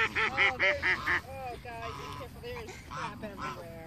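A flock of hungry ducks at a feeding spot gives loud, repeated honking quacks in quick bursts close by, mixed with excited human voices.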